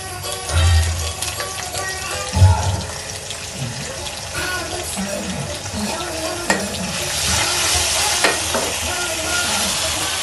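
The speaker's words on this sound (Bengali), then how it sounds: "এখন এর মধ্যে আদা রসুন বাটা দিয়ে দিব।" Ginger garlic paste fries with browned onions in a pan with a steady sizzle, while a spoon stirs and scrapes in several bursts, and a few knocks and clatters sound up close.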